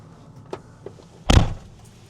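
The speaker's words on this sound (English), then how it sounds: "I gotta close the frickin' door." A Ford 4-wheel-drive truck door shuts with a single loud thud midway, preceded by a couple of faint clicks and followed by quiet.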